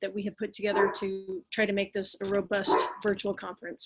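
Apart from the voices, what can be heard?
neighbor's dog barking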